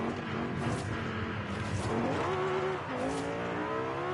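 A car in Forza Horizon 5 accelerating off-road and spinning out, its engine revving and rising in pitch alongside tire squeal and skidding noise, loud and close throughout.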